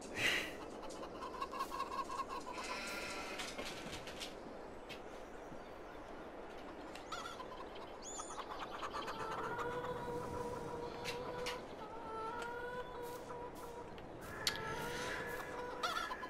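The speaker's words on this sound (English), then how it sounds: "What the old rooster's doing in there?" Chickens and a rooster cluck and chatter continuously in the farm game Farming Simulator 22, a busy layered coop chorus of clucks and squawks at moderate volume with no talking.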